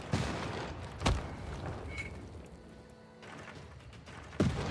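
Field cannon shots in Civilization VI, two sharp booming blasts roughly three seconds apart, each a short loud thud over low ambient game sound.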